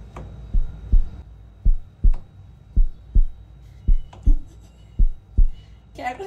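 Steady heartbeat sound effect, a dozen low paired thumps in an even rhythm, fairly loud against quiet background hiss, with a short burst of noise at the very end.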